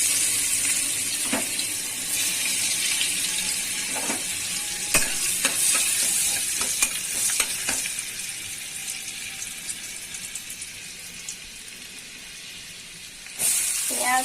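Garlic and onion frying in hot oil with a little butter, a loud continuous sizzle with frequent clinks and scrapes of stirring throughout, flaring louder again at the end.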